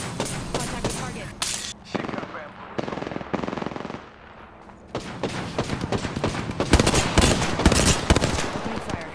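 Automatic weapon fire in the battle royale game Apex Legends, loud rapid bursts and sustained volleys through most of the stretch with a brief lull in the middle, with voices talking faintly underneath.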